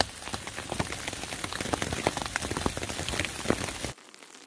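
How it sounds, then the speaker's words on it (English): Hail pelts a trail campsite on the Continental Divide Trail in New Mexico, a dense constant patter of hard impacts that stops abruptly near the end. "Even despite the hailstorm that I got caught in here"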